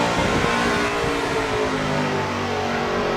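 A NASCAR race car engine in a racing video game roars continuously at full throttle, a dense, loud, buzzing drone that holds steady throughout with no pauses or voices.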